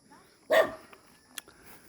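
A dog barks once, loud and close, during an outdoor walk in Dumaguete, followed by a fainter short yip and quiet ambience.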